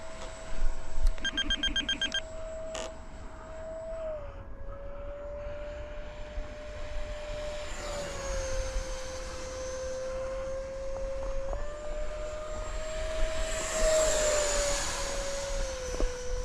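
A 70mm electric ducted-fan FF 35V2 model jet on its maiden flight after a hand toss, its steady high-pitched whine rising and falling as it passes overhead, loud and continuous with faint background noise throughout.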